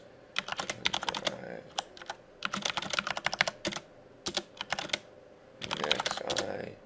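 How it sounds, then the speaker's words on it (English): Someone types a short program on a computer keyboard in quick bursts of close key clicks, separated by brief pauses, on an RC2014 Z80 retro computer setup. "So let's type in a simple program."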